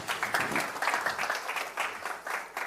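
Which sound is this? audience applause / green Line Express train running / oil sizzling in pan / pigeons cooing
audience applause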